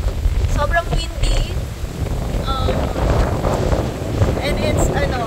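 Strong wind buffets the microphone in a steady low roar, with faint voices and background activity mixed in throughout.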